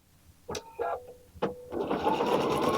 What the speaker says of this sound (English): take this block, find a strip, put this fabric right sides together, and sew.